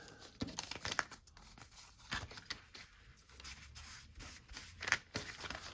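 A brown paper mailer being folded and creased by hand for mixed-media tags, several quiet crinkling rustles and sharp crackles spread across a few seconds, close up.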